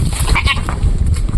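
A goat bleats loudly and close by in quick, repeated cries over a short moment, with farmyard rustle underneath.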